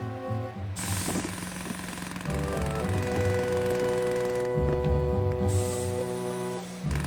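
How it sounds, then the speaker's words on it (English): Cartoon steam engine digging delicately with its smallest chisel on a roped-off dig site, a loud continuous jackhammer-like rattling and chugging with steady droning tones, running throughout alone. "Oliver changed over to his smallest chisel. This job called for delicate digging."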